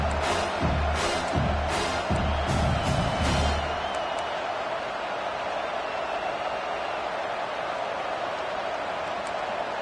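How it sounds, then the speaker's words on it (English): Loud football stadium crowd roaring during a fourth-down play, a broad sustained wall of cheering with heavy rhythmic thumps in the first few seconds, then a steady roar carrying on alone. "This crowd busting the decibel meter and trying to will a 4th down stop"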